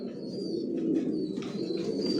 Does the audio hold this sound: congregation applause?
no